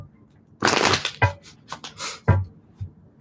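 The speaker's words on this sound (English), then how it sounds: "One more shuffle." Tarot cards being shuffled up close, a series of crisp riffling bursts and soft taps in uneven rhythm, loud against a quiet room.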